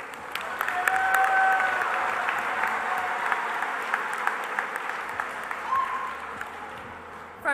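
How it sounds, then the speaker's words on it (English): An audience at a student skills competition opening ceremony applauds in a broad, sustained wash of clapping with occasional whistles and cheers rising above it, holding for several seconds at moderate distance. "Let's give Marta a round of applause."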